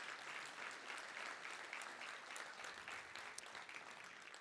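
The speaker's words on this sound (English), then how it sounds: "I think we really need to give a round of applause for that." An audience at an academic affairs address gives a steady, even round of applause that fills the room and carries on without a break, heard from some distance.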